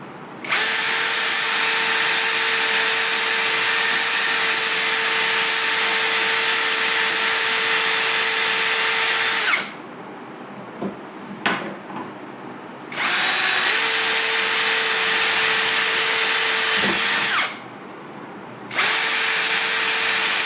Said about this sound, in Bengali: এবার চলেন ড্রিল করে দেখাই